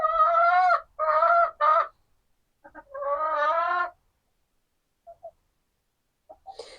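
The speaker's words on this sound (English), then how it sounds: "chickens seem to be doing good, settled in well, and they're all actually roosting now as well" Several chickens clucking and squawking in short bursts, close by on an allotment, with quieter scattered clucks trailing off afterward.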